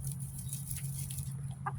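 A bird in the snow clucks like a chicken in a few short, soft calls over a steady low background hum, fairly faint and without any speech.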